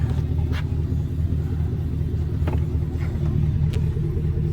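A Chevrolet Silverado SS V8 idles through its aftermarket exhaust pipes, a steady deep low rumble with a faint rhythmic pulse, close and continuous, a few light clicks above it.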